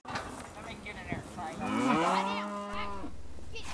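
A single cow lets out a long, loud, drawn-out moo on a cattle farm where border collies work the herd, rising and then fading.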